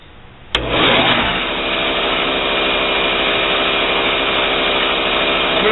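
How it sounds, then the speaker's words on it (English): A bench grinder shaping the profile of a knife blade switches on with a sharp onset and then runs as a steady, loud, dense whine with no breaks, and no voices are heard. "It's a little noisy when I grind."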